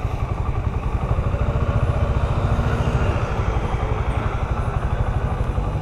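A motorcycle engine idles close by with a steady, rapid, throbbing pulse and a slight rattle, holding an even loudness throughout with no talking.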